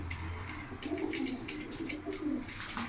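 Soft, repeated cooing from a Turkish pigeon fancier's loft bird, a Limoni pigeon, rising in a few low warbling phrases close by with faint loft rustle in the background.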